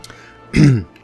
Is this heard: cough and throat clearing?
yes